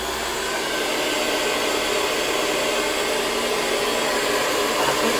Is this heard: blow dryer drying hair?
yes